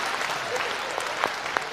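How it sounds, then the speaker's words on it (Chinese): Audience at a live crosstalk comedy show in Harbin clapping steadily, a dense, continuous wash of applause from a crowd with a few sharper individual claps standing out. "观众这个掌声鼓的啊"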